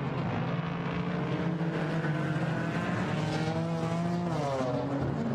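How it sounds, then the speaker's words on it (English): GT4 race cars accelerating hard out of a turn at the Nürburgring, engines rising and falling in pitch as several cars pass through the corner, loud and continuous with no voices over them. "The race leaders now accelerate out of turn 4"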